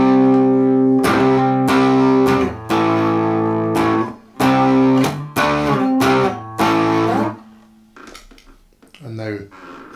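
Electric guitar played through a DIY Klon clone overdrive pedal, loud crunchy chords and single notes with gritty distortion, ringing out then fading into quieter picking near the end.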